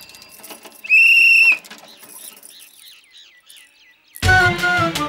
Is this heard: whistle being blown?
yes